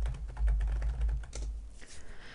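Quick keystrokes on a computer keyboard enter a query name in Microsoft Access, a close, light burst of typing that stops partway through.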